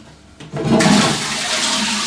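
A toilet flushes nearby with a loud, rushing gush of water that starts abruptly and keeps draining steadily.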